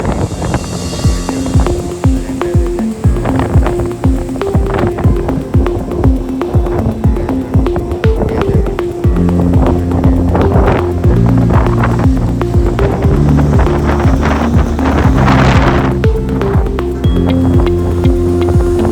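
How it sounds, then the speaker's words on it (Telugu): Strong beach wind buffets a microphone during a motorcycle trip, a loud, continuous rumbling roar with rough gusty thumps and a steady low drone throughout, no speech. "మొత్తం ఫుల్ గాలి వస్తుంది అనమాట"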